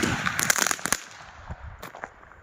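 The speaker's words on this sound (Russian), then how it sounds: "мы с младшим братом запускали салюты" Fireworks launched at a New Year celebration, a rapid burst of sharp crackling pops close by, then fading into a few scattered bangs.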